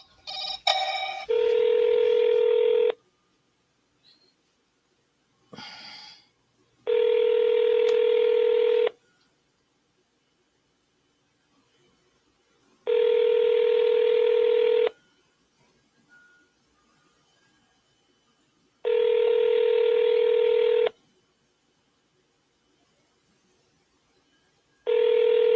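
A telephone call being dialed, with quick touch-tone beeps at the start, then four steady, loud ring-back tones evenly spaced through the clip with quiet gaps between them.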